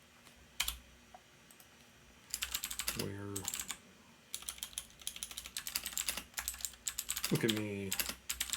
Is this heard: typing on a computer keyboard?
yes